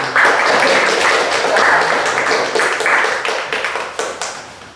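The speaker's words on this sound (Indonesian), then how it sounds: "Kita berikan tepuk tangan" Classroom group applause after a student group's presentation during a teaching practicum, dense many-handed clapping sustained for about four seconds and fading slightly at the end, loud and close.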